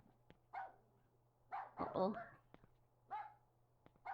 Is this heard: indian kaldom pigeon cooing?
no